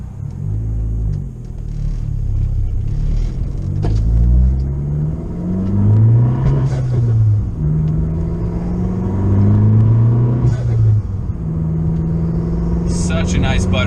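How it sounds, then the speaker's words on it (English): The engine of a modified Abarth car, fitted with a turbo blow-off valve, climbs through the revs in several long rising sweeps. The close, rumbling sound has a hiss between pulls, and people talk over it. "Such a nice butterfly fucking blow off sound."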